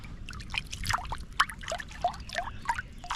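Creek water trickles and drips in a small stream, a run of light, close bubbly plinks at an uneven pace over a low background.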